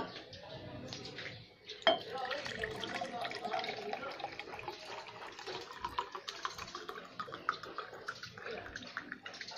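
Water is poured into two glasses, 500 ml in total, trickling and splashing steadily with clinks of glass and dishware, a brief sharp knock near the start, close and fairly quiet.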